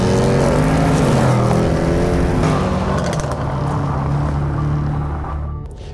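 A 2017 Range Rover Sport SVR accelerates hard, its engine roaring loud and close with rising tones, then settling into a lower steady drone as it pulls away and fades slightly at the end.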